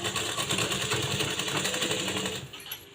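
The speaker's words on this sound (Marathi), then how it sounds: "डबल शिलाई मारून आपण इथं एकमेकावरती पट्ट्या तयार करायच्या आहेत" A sewing machine runs steadily at close range, double-stitching blouse piping strips with a continuous rattling whir that slows and stops near the end.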